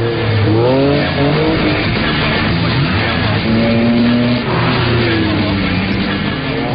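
A Peugeot 306 3.0 V6 is driven hard through corners, its engine note loud and close, rising and falling in pitch with gear changes, alongside tyre noise and faint talk.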